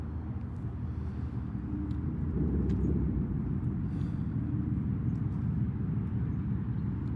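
Steady low engine rumble and road noise from a car driving, continuous and fairly loud throughout, with a slight swell partway through.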